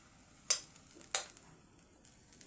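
Fish simmering in vinegar in a pan is flipped, giving two sharp clattering scrapes close by with a soft sizzle continuing between them.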